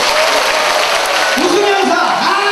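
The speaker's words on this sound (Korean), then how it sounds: "응원의 박수 한번 부탁드립니다" An audience at a lecture hall event in Yeongdo, Busan breaks into dense, continuous applause, a broad wash of clapping filling the room while a voice speaks over it.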